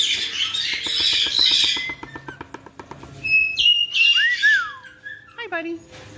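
A spiky-feathered pet bird squawks and whistles up close indoors, harsh loud calls alternating with a rapid chirping trill and rising whistled notes.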